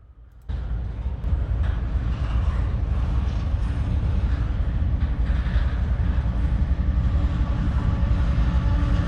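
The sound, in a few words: CSX Q500 manifest freight train passing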